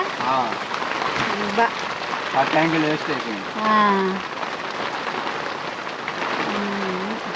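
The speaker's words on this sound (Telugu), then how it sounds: "బయట చూడండి వర్షం అసలు ఎలా ఉందో విపరీతంగా పడుతుందండి" Heavy rain pours down outside in a steady, dense patter on surfaces, while voices talk over the downpour throughout.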